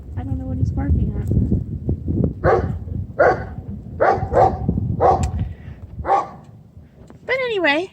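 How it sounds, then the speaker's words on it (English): Loud, close barking from a dog outside during a blizzard, about eight sharp barks in an uneven rhythm over blowing wind, ending with a high whining yip. "I don't know what he's barking at."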